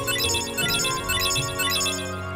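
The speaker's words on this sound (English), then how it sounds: "Actually, I'm getting a phone call." A phone ringtone announcing an incoming call chimes in a repeating melodic pattern, loud and steady over a low background hum throughout.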